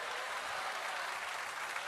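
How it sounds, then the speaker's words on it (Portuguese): Church congregation applauding, a steady wash of many hands clapping throughout, fairly distant and even in level, with no clear voices over it. "Você consegue aplaudir ao Senhor pela sua palavra agora?"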